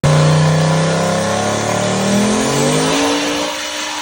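Loud, close roar of a turbocharged 5.3-litre V8 Mustang at full throttle on a dyno, pitch climbing steadily through a long pull before easing off near the end, with no voices over it.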